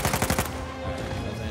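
Rapid gunfire bursts crack out in a quick string of sharp shots, then give way to a dense noisy tail, from a combat scene in the video game Uncharted 4: A Thief's End.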